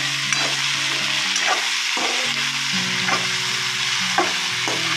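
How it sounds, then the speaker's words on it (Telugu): Okra fries with onions in a pan, a loud steady sizzle running throughout, with a spoon scraping and stirring at irregular intervals. "చూడండి ఇట్లా వేసుకొని ఉల్లిపాయల్లోనే వేయించేసుకోవాలి"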